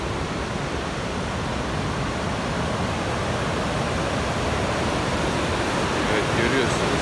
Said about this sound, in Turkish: Keban Barajı ve Çırçır Şelalesi.